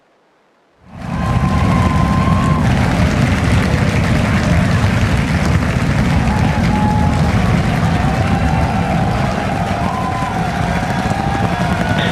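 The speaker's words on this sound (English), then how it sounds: "And we have liftoff. Motion. And Starship Flight 10 is on its way." A SpaceX Starship Flight 10 rocket lifts off: after a quiet moment, a massive, sustained broadband roar abruptly rises and holds steady, loud and distant-sounding, with faint crowd noise beneath it.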